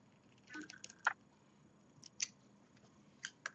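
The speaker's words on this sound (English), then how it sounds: "once you bury your loose yarn end, you can cut it." Scissors snipping a loose yarn end on a crocheted pot holder, a few faint, close crisp snips spread over a few seconds in a quiet room.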